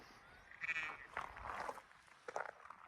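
Sheep bleat close by near a wild camp pitched among the mountains of the Scottish Highlands along the West Highland Way: a few wavering, overlapping calls in quiet open air.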